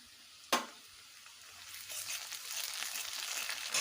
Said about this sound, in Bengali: আদা রসুনগুলোকে একটু কষে নেব